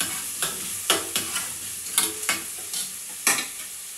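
Onions for a mutton liver pepper masala are sautéed in a pan, a low continuous sizzle under a quick, irregular series of close spoon scrapes and taps against the pan, about ten strokes, with no one talking.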